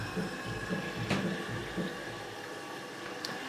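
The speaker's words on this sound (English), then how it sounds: "I'm gonna have the water running." Tap water runs steadily into a darkroom film wash, a low continuous wash of flow with a couple of faint knocks, fairly quiet and close, with no talk.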